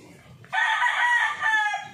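A Filipino gamefowl rooster crows once, loud and close, a long strained call lasting over a second after a brief quiet start.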